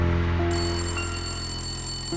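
A telephone rings in an indoor scene of a Hindi-dubbed action movie, a steady electronic ring holding throughout without any voices.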